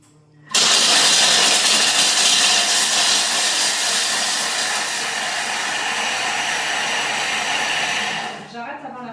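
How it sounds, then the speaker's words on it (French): Thermomix blending dark chocolate for a marble cake: a loud, steady motor whir with rushing grinding noise starts abruptly, holds for about eight seconds, then cuts off. "puisqu'on va mixer le chocolat. Et là, c'est vrai que ça fait du bruit en général."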